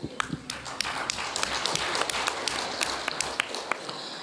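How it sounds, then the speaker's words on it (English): Conference audience clapping in steady, scattered applause, a room full of hands with sharp individual claps standing out throughout. "Applause."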